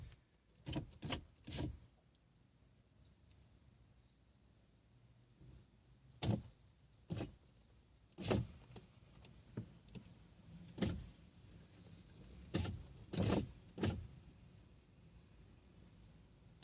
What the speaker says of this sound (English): I gotta open the window and leave it open.